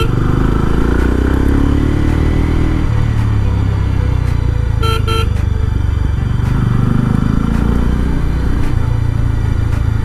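Mahindra Mojo motorcycle engine humming steadily while riding, a continuous loud drone with wind rush and a brief clatter midway, alone with no talk.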